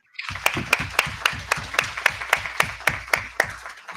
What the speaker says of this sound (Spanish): Los aplausos reales y virtuales también para Delfina, para Fernanda